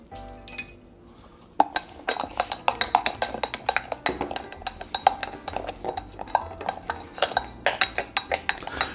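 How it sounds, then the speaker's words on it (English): A metal spoon stirs sweetener into coffee for a low-carb mixer, clinking steadily and repeatedly against the glass in a quick, close rhythm after a brief quieter start, with no talking. "I'm just gonna stir that up until it's all dissolved"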